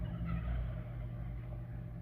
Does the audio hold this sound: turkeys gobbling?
yes